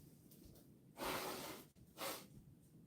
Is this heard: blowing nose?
yes